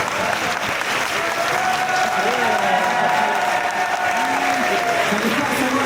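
A large audience at a Walibi theme park pass event for 2026 applauds in a sustained, dense burst of clapping that fills the whole stretch, with voices and cheering mixed in.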